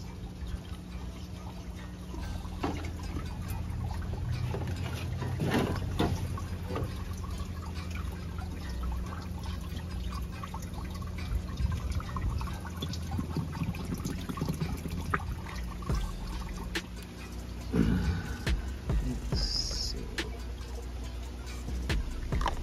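Water drips from a water bottle irrigation setup, with irregular small drips and trickles against a steady, fairly loud background hiss, and no one speaking.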